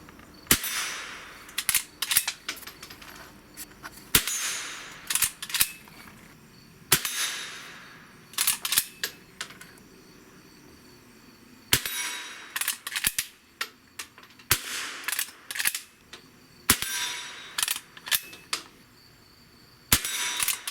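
Firearms shooting session with pistols and rifles, including a Hellcat, Ruger 5.7 and suppressed 300 BLK and 5.56: sharp, loud shots fired singly and in quick bursts, separated by short pauses.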